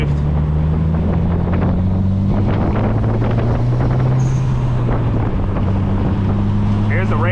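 A Link ECU-swapped Mitsubishi Evo 8 engine drones loudly from inside the car as it slows to a stop in gear, its steady low tone hanging and easing only slowly downward, with wind noise and brief voices in the cabin.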